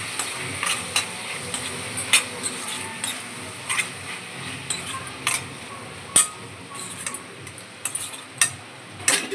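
Tomato pieces with ginger-garlic paste and turmeric being stirred in a pan, a steady soft sizzle broken by repeated sharp clinks and scrapes of a spoon against the metal, close and moderately loud with no talking.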